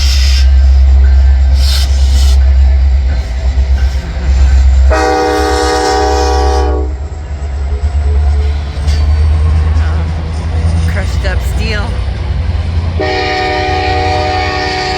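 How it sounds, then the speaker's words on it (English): A southbound coal train rumbles past at close range, loud and continuous, its horn blaring in long sustained blasts near the start and again at the end, with wheel squeal in between. "It's not the passenger train. It's the coal train."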